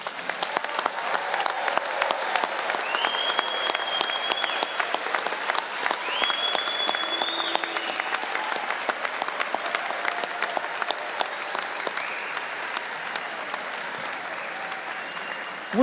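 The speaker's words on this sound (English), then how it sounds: "How about another round of applause for our graduates?" Sustained audience applause for graduates at a spring university commencement ceremony, a steady dense wash of many hands clapping throughout, fairly loud and continuous, with faint tonal sounds drifting over it.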